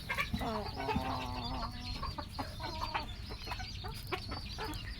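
Silkie hens and young roosters, let out to run about in a yard, cluck steadily at close range, with several birds overlapping in a busy, continuous chorus and no talk.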